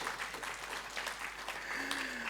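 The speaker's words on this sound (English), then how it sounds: "That really deserves a clap." Conference audience at a Ruby programming talk claps together, a fairly quiet, even patter of many hands continuing throughout, with a faint tone and a voice-like murmur in the background.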